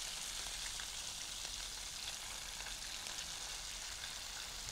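Halloumi cheese frying in a pan, a steady close sizzle with fine crackling spread evenly throughout, no voices over it.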